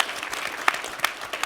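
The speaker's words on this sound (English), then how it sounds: "Okay, slightly less claps, but still a lot." An audience claps at a summit session, giving a brief, steady patter of many hands with a few sharper claps standing out.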